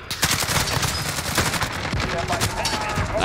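Rapid automatic gunfire from a CR-56 AMAX rifle rattles through a Modern Warfare battle royale match, dense bursts loud and close with scattered distant shots layered behind, almost continuous across the stretch.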